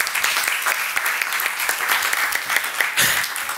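Audience clapping fills a science workshop on tornadoes and vortices, a loud, dense burst of applause close to the microphone that carries on steadily to the end.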